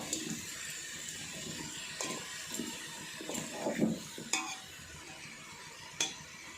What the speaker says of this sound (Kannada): ಉಪ್ಪು ಹಾಕ್ಬಿಟ್ಟು ಚೆನ್ನಾಗಿ ಮಿಕ್ಸ್ ಮಾಡಬೇಕು